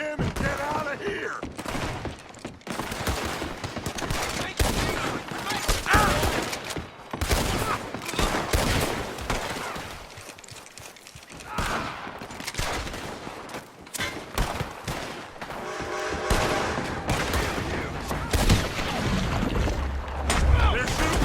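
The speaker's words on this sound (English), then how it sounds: "They're shooting from that building." Gunfire from a building in Red Dead Redemption 2, a long run of dense rifle and pistol shots in rapid bursts with loud, close cracks and thuds throughout, with characters shouting amid the shooting.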